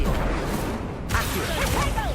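A fire spell called Incendio is cast in the Hogwarts Legacy video game, a dense, roaring burst of noise that surges sharply just past the one-second mark and keeps crackling to the end.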